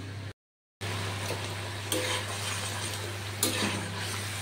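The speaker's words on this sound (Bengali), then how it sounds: "কাসুরি মেথিটা আমি এখানেই ভালো করে ভেজে নিলাম।" Kasuri methi, dried fenugreek leaves, frying in a spice mix in a pan, a steady close sizzle with soft stirring scrapes running throughout, broken by a short silent gap near the start, no talking.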